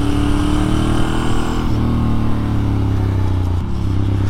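A Ducati motorcycle engine, on a ride in the Ardèche, drones loudly and continuously with shifting revs, the pitch dropping partway through and again near the end.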